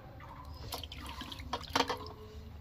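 Small fish being rinsed by hand in water, with soft splashing and dripping from a tap or basin, close and fairly quiet, in short irregular bursts with no talking.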